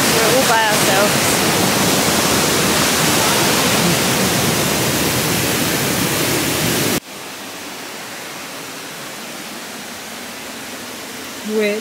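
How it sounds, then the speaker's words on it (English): Waterfall at Swallow Falls in Wales, a steady loud broadband rush of falling water that drops abruptly to a quieter, thinner wash partway through, with a brief voice near the start. "Swallow Falls, as you can hear, water's proper flowing"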